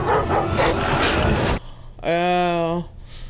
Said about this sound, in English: I just got my butt eaten by dogs.